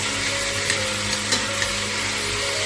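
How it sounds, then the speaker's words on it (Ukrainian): Carrots and onions frying directly in a pot, a close, continuous sizzle with a few light stirring clicks, loud and steady with no voices. "Обжарюємо прямо в кастрюлі."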